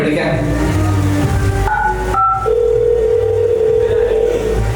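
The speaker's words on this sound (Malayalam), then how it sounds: "എന്തായാലും ഞാൻ നമ്മുടെ കാർലോസ് അച്ഛനെ വിളിക്കാം." A telephone dial tone sounds during a comedy spoof skit performed on stage as a call is placed: steady electronic tones shift pitch a couple of times, then one long held tone continues under faint background voices.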